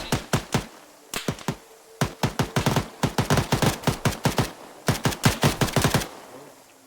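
Bursts of rapid gunfire in Arma 3, loud close shots in several quick volleys separated by short pauses, each burst a tight rattle of sharp cracks.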